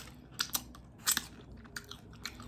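Close-up chewing of chicken wings in sweet and sour sauce, with wet crunchy bites and smacking in irregular bursts, soft and intimate, and no talk.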